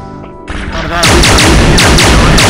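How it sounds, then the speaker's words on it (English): Grenade launcher fire in the shooter game Halo 1 SPV3, a loud rapid string of heavy thumping blasts that builds after a brief quieter lead-in and then pounds steadily, dense and close. "I shoot the grenade to bombard the fucking hell out of them with"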